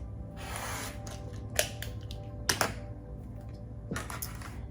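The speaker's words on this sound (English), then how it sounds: "And then I'm gonna cut it again." Scissors or a rotary cutter slice through quilt fabric pieces for a wonky four patch block, a few crisp close snips spaced a second or so apart over a quiet room hum.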